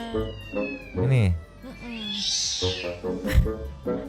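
A grey cat meows several times, fairly close, with drawn-out, rising calls mixed among people talking over it.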